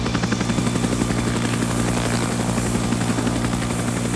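A medical helicopter flies steadily with a loud, continuous rotor chop and engine drone that stays close and unbroken throughout, with no talk.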